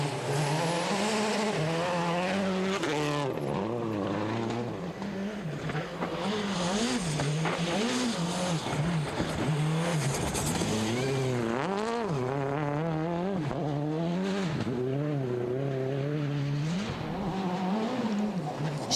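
A Citroën rally car's engine revs rise and fall repeatedly through gear changes on a twisty 2006 Cyprus WRC stage, loud and close, with tire squeal in the corners.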